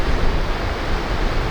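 Ocean waves break continuously on a rocky coastline, a loud, dense roar of surf with wind rushing over it and no voices.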